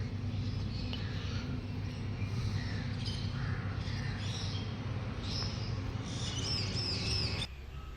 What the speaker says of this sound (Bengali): আর এদিকে দেখো পাখিগুলো দেখো